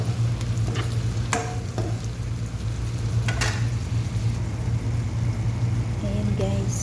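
Shrimp sautéing in a pan for chop suey, a steady sizzle and frying hiss running throughout with a few clinks of a utensil stirring against the pan, close and moderately loud.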